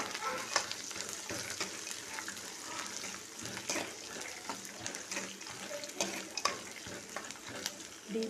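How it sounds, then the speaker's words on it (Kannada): Sliced onions and peanuts deep frying in hot oil for puliyogare, a steady soft sizzle broken by scattered clinks and scrapes of a stirring spoon, fairly faint and with no talk. "ಡೀಪ್ ಫ್ರೈ ಮಾಡ್ಕೋಬೇಕು."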